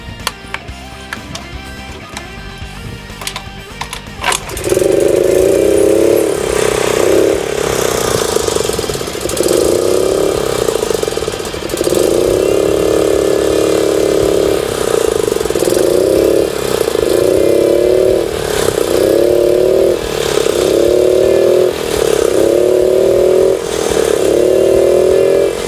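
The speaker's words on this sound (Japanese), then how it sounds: "エンジンもね、これすぐかかるんですよ。ちょっと見ててくださいね。" A Suzuki Choinori motorcycle engine cranks over and catches after a few seconds, then settles into a loud, close idle with a rhythmic, pulsing putter and occasional revs.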